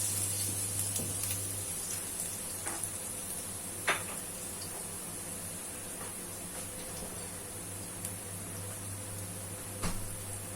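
Ginger sautés in a pan with a soft, steady sizzle and hiss, broken by a few faint clinks of a utensil against the pan, no voices.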